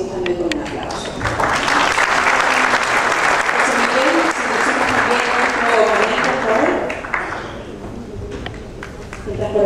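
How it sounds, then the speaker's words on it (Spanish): An audience at a regional innovation strategy event applauds to welcome a speaker, steady loud clapping that swells and then tapers off, with voices audible underneath. "Lo recibimos también con un aplauso."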